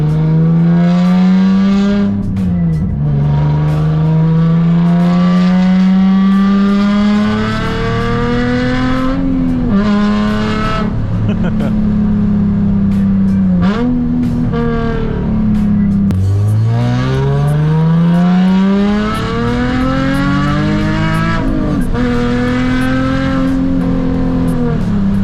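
Straight-piped Nissan 350Z exhaust heard from inside while driving on the street, a loud raspy drone rising through the gears with sharp revving climbs, brief dips at shifts and a continuous close roar throughout.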